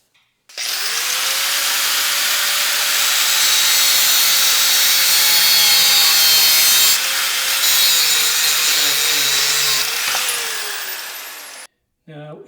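A grinder cuts through the top of a Hansgrohe PuraVita faucet handle, a loud, steady high-pitched whine with grinding noise running for about ten seconds before it stops.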